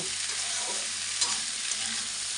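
Salted kudli greens fry with potatoes in a pan: a continuous close sizzle with soft scraping as they are stirred, steady and loud throughout.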